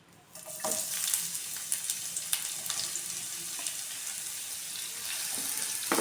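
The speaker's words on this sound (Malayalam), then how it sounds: "അപ്പോൾ ഇതവിടെ നമ്മുടെ എണ്ണയൊക്കെ ചൂടായി വന്നിട്ടുണ്ട്. ഇതിലേക്ക് നമുക്ക് ഉള്ളി ആഡ് ചെയ്ത് കൊടുക്കാം." Onions added to hot oil for an egg fried rice masala, a sudden burst of dense sizzling that settles into a steady crackle with occasional clicks and stirring noises close by.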